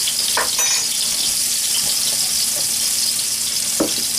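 Garlic roasts in hot oil on a farmstead stove, making a steady, even hiss and fizz with a few soft pops and ticks, close and consistent with no talking.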